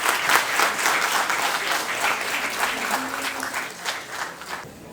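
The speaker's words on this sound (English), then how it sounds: "Please join me in welcoming Dr. Shamika Ravi to the stage with a warm round of applause." A college audience gives warm, sustained applause welcoming a speaker to the stage, with dense clapping at a moderate distance that gradually thins toward the end.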